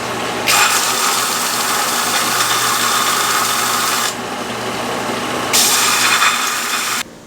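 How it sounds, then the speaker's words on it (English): A belt sander bevels the edges of a metal coupon, a steady motor hum overlaid by bursts of harsh grinding hiss as the steel is pressed against the belt, two long passes close up and without speech. "So as I'm sanding, you'll notice that I'll use the top and the flat spot here"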